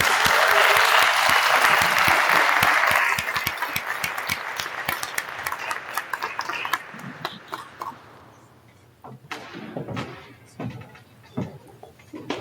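Loud audience applause fills a room at a county Republican Party ranked-choice voting debate, dense clapping for about three seconds before thinning into scattered claps and trailing off, with some faint room noise behind.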